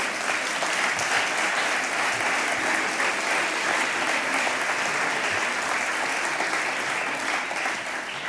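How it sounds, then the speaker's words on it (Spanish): Steady, full applause from an audience fills a social work awards ceremony, an even wash of clapping that holds for several seconds without a break. "otro aplauso para nosotros mismos"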